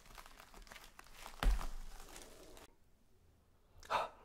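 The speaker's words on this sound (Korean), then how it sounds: "바로 뜯어 볼게요." A plastic takeout package of extra-spicy mala tang is torn and crinkled open, with a sharp rip near the start and a brief crinkle at the end, fairly close over a quiet room.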